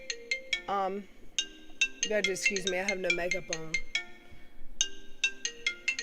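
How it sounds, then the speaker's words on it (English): Phone ringtone plays a repeating melodic electronic chime, loud and close, with someone talking over part of it. "I'm not interested in my phone ringing. I'll turn it off."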